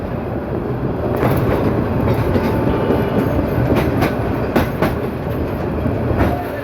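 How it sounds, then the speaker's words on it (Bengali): The Narayanganj commuter train, running on the Dhaka–Narayanganj route, picks up speed on a curve, a loud close rumble of carriages with rhythmic clickety-clack of wheels over rail joints and occasional sharp metallic clanks. "এই যে ট্রেনটি বাঁক নিয়ে সামনের দিকে এগিয়ে চলছে।"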